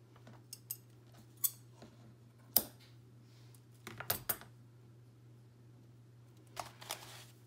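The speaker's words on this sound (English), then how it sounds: "I'm just going to trim these ends." Scissors snipping loose thread ends on a five-hole pamphlet-stitch double journal binding, a handful of sharp, separate cuts spaced irregularly in a quiet room, close and clear with pauses between.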